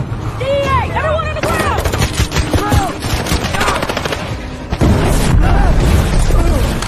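Loud bursts of gunfire and explosions in a dense action-movie battle, with shouting voices and whistling effects layered over the rumble.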